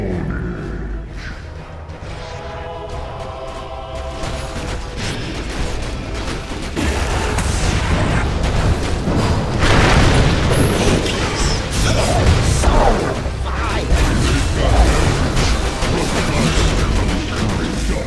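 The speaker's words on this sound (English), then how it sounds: "Dire's middle tower has fallen." A tower is destroyed in a Dota match, heard as a dense rumble of crashes and booming impacts that swell midway and stay loud over game effects and music.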